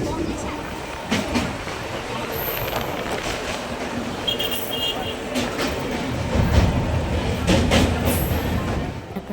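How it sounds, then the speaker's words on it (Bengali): Interior of a moving passenger train on a trip to Dakshineswar, a continuous loud rumble with rattling carriage noise and faint clicks of the wheels, with voices audible beneath. "এবারে দেখো আমরা স্টেশনেও চলে গেছি আর ওখান থেকে ট্রেনে উঠে পড়েছি।"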